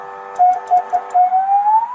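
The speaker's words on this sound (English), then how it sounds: "it has a functioning siren to go with the lights, alternating sirens." A fake police car's siren wails loud and close, its tone switching back and forth between patterns before rising in a steady sweep, with no voices.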